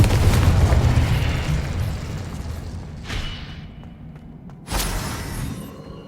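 Confringo blasting spell in Hogwarts Legacy on PS5: a loud booming explosion that rumbles and fades, followed by two further bursts a few seconds apart, with no spoken words.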